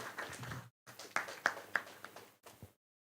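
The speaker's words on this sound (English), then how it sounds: "Let's give them a big round of applause as well." Brief applause from a workshop audience at a start-up community event as a team walks in, a short burst of scattered claps with a few sharper hand strikes, broken by a gap before a final smattering.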